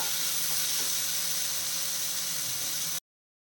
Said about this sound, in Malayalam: അപ്പം ഞാനിത് 3-4 മിനിറ്റ് കൊണ്ട് വഴറ്റുകയാണ്.